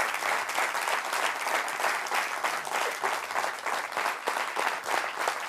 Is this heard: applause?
yes